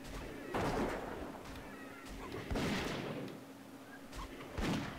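Shots fired in World of Warcraft: The Burning Crusade, three or four sharp, reverberant bursts spaced a couple of seconds apart over a faint background hum, fairly quiet overall.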